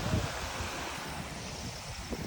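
Water rushes steadily near a zip line on the Mullayanagiri peak road in Chikkamagaluru, a continuous broad roar with some wind buffeting and no voices.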